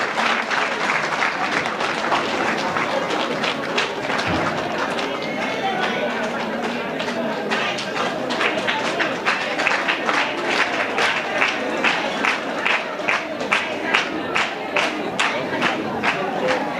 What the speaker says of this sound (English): Ladies and gentlemen, please give a round of applause to Madam Aissata Day, the UNDP resident representative.